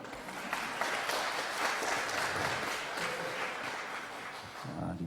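An audience at a Korean lecture applauds together in a warm, continuous wash of clapping that holds steady at moderate level for several seconds before thinning out at the end.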